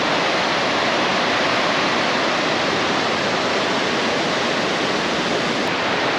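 Arctic creek water on Baffin Island rushes steadily where the stream braids into many channels, a loud, dense, unbroken wash of flowing water with no voices.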